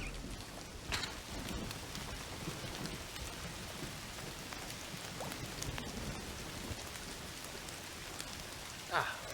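Steady rain falls on a night in Southeast Asia in Indiana Jones and the Great Circle, a dense even hiss with occasional louder drops and faint distant thunder.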